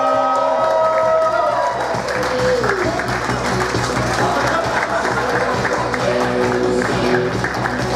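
Wedding reception guests clap and cheer steadily as the bride and groom arrive, a dense crowd sound that runs the whole time under tonal music and a loud voice over a PA.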